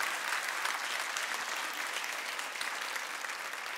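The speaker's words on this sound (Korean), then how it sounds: "우리에게 이렇게 큰 은혜 베푸신 하나님께 다시 한번 감사의 박수 올려주시면 어떨까요?" A church congregation applauds in thanks to God, a steady, dense wash of clapping that holds at an even level throughout with no voices over it.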